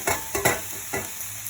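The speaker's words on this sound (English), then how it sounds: "I'm going to add my okra and my potatoes there." Okra and potatoes tipped onto sautéed onions in a pan give a soft sizzle with a few brief stirring scrapes, quiet and close.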